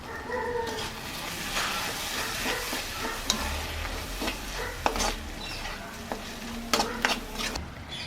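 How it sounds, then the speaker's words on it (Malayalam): Beef stirred with red chilli sauce in a pan sizzles steadily, with scattered spoon scrapes and clinks against the pan; a dog can be heard faintly in the background. "ഇനി ഇതെല്ലാം കൂടി നന്നായിട്ടൊന്ന് മിക്സ് ചെയ്തെടുക്കാം"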